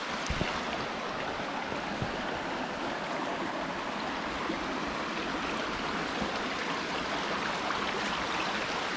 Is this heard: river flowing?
yes